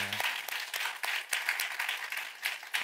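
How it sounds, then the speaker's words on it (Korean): A church youth-service congregation gives a short burst of encouraging applause, steady dense clapping throughout, fairly close and full. "서로를 향해서 우리 격려의 응원의 박수 한번 보내드릴까요?"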